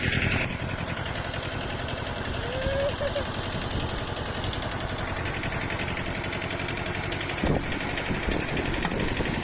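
A tractor engine runs steadily on a steep hill with a close, throbbing idle that stays loud throughout, and a brief clatter comes near the end.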